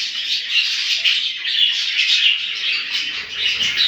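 Cockatiels in an aviary keep up a continuous, fairly loud chatter of overlapping chirps and whistles, unbroken and without any speech.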